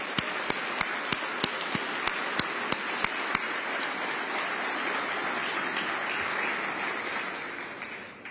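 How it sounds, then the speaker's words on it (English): Audience at a Veterans Day breakfast reception breaks into sustained applause, opening with a few sharp single claps before a dense, even wash of clapping fills the room. "Let's just give a round of applause to everyone who was here for us."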